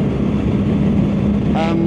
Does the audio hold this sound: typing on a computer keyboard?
no